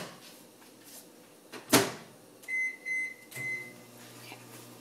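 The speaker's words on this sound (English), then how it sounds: "I just throw it in the microwave" A microwave oven door thumps shut on a patty, then a few short electronic beeps follow as the heating starts, with a low running hum beneath.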